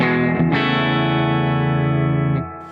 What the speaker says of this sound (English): Obviously, the more sensors you have on, the bigger the reverb.